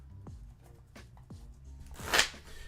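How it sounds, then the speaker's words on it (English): A Lorcana trading card deck is shuffled by hand in several short riffled bursts, with a brighter, louder flutter near the end, close and fairly quiet with no talk. "Take our sweet time doing some shuffling."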